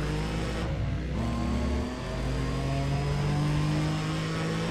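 Saturn Sky-style Solstice race car in Need for Speed ProStreet, engine droning loud and steady at high revs, with a brief dip as it shifts before climbing again, no talk over it.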